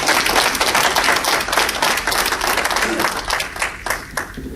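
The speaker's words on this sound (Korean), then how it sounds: "크게 박수 한번 드리고 싶다는 거예요" Applause from a church congregation at a Korean-language sermon: many hands clapping loudly and continuously, close and dense, tapering slightly near the end.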